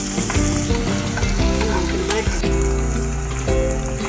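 Masala chicken frying and being stirred in a pan after pepper powder goes in, a loud, steady sizzle with scraping stir strokes running throughout and no talking.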